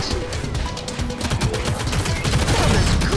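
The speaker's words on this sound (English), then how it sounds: "Sentry gun always saved me." Sentry gun in the shooter game Shadowgun Legends firing rapid, dense automatic bursts, loud and close, with rattling shots that continue steadily throughout without pause.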